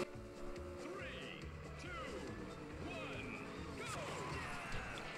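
Racing vehicle engines rev up together at a start line in Skylanders SuperChargers Racing on 3DS, a busy overlapping whine and rumble with rising and falling pitch sweeps, steady and moderately loud under game chatter.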